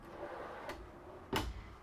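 Two brief knocks of a kitchen drawer sliding and shutting in a 2021 Winnebago Forza 38W motorhome, the second louder, over a low steady room hum.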